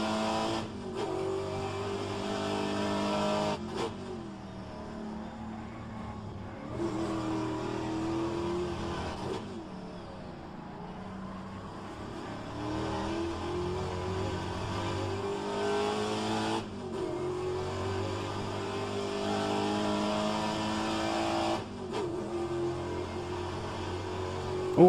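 A Pontiac race car's engine howls around Road Atlanta, rising in pitch through repeated upshifts with brief drops between gears, steady and fairly loud from the cockpit.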